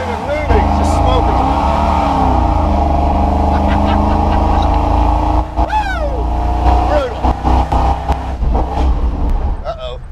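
A modified Jeep Grand Wagoneer nicknamed the Hellwagon revving hard while smoking its tires, a loud continuous engine roar with rising and falling revs and tire squeal, up close, with brief speech mixed in.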